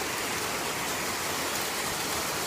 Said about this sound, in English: That is big hail.